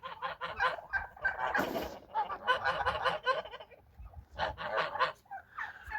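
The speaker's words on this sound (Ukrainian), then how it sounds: "Ви якісь трошки нерозумні гуси." A flock of large geese honks and gobbles in repeated rapid bursts, fairly close and loud, with short pauses between volleys.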